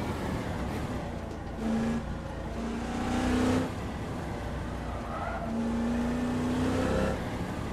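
A Duqueine race car lapping Paul Ricard in a VR racing game, its engine droning steadily with rising and falling pitch as it accelerates and shifts, plus occasional tyre squeal, heard alone without talk.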